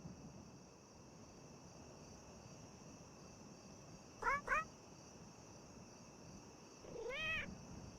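A cat sitting on a railing in a PS2 horror video game meows twice in quick succession, then gives a longer meow a few seconds later over a steady hum of ambient noise.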